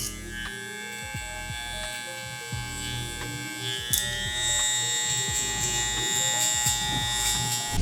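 Electric clippers fitted with a 1/2 guard trim a beard, a steady close buzzing hum whose pitch shifts slightly as the blades pass through hair, running continuously without talk.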